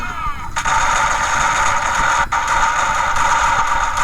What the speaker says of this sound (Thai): เสียงระเบิดนะครับเสียงดังไปหน่อยครับขอโทษทีครับ